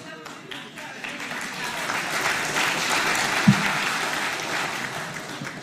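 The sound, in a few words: audience clapping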